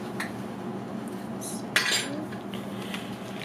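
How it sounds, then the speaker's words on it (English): Black bean burger mixture being stirred with breadcrumbs and flax egg in a bowl, a few scraping clinks of a utensil against the dish with one sharper knock midway, close and alone. "Mix this up."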